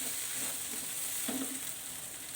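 Spices stirred into a frying mixture for eggplant bharta, with a soft continuous sizzle and faint scraping strokes of the stirring, quiet and close with no voices.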